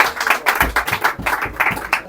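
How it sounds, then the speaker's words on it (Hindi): An audience at a mobile repairing institute's diploma gathering claps by hand, a close, brisk patter of overlapping claps from a modest group that stays fairly even throughout. "तालियां ज्यादा होनी चाहिए भाई"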